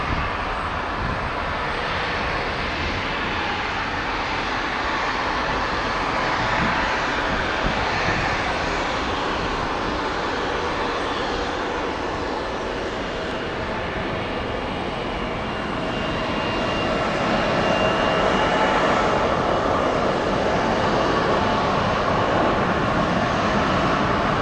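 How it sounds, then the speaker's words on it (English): Boeing airliner taking off from runway 3 left at Detroit Metro Airport, a steady, powerful engine roar that holds loud and continuous throughout, with a broad rushing tone that swells slightly toward the end. "Boeing, runway 3 left, clear for takeoff"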